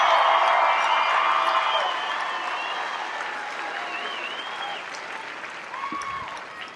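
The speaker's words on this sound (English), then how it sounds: "One more round of applause, please," A large crowd applauds and cheers brand-new Air Force airmen at a basic military training ceremony, with the sustained clapping and scattered whoops fading gradually over several seconds.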